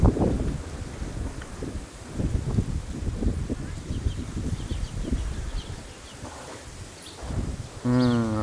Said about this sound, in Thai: ตอนนี้ยังไม่มีฝน มีลมอย่างเดียวครับ